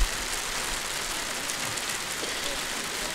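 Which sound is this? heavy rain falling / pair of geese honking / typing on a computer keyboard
heavy rain falling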